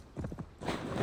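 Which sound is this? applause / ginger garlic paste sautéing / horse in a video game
horse in a video game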